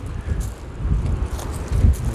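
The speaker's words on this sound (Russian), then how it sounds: "вот это ветер" A wind gust sweeping through an outdoor garden centre in Anapa, a rumbling, buffeting rush against the microphone that swells and eases over about two seconds.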